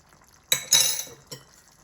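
A spoon scrapes and clatters through minced beef and potato curry with green chilli, coriander and garam masala in a pan, in two close bursts and a softer third knock, with no talk.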